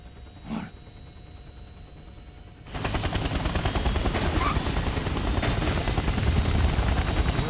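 A helicopter in the video game Metal Gear Solid 4 roars in suddenly after a quiet stretch, its dense, steady rotor and engine noise filling the rest of the scene loudly and continuously.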